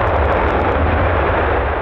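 Pagani Huayra R Evo Roadster engine producing a loud, dense, continuous roar with heavy low-end rumble, sustained and close throughout the short burst.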